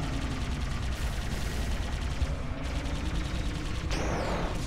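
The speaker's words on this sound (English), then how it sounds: "I'll sharpshoot with this pistol" Pistol fire in the Halo 2 video game, a dense run of rapid shots packed closely together under steady game noise, with a sweeping electronic effect near the end.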